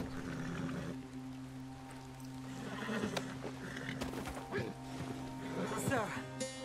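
A horse whinnies in the Western video game Red Dead Redemption 2, a few short neighs and snorts over a steady low game hum, with people talking throughout.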